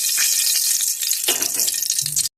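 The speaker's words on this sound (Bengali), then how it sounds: "এখানে মাছ ভাজা তেলের মধ্যে এবার কালো জিরে অল্প ফোড়নে দিয়ে দিলাম" Nigella seeds tempering in oil left from frying hilsa fish crackle into a loud, dense sizzle that holds steady, then thins into sputters before cutting off abruptly.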